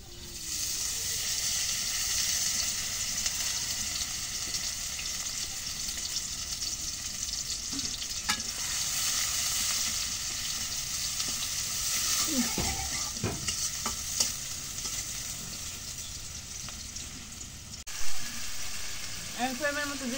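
Chopped onions fry in oil in a pan, producing a loud, steady hiss of sizzling with occasional stirring clinks and scrapes over about twenty seconds, close by, with a voice talking in places.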